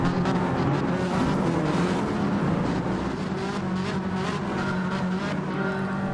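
A Ferrari Group 4 race car in a racing video game launches at the start. A dense, continuous engine roar from the surrounding pack of cars stays loud and steady throughout.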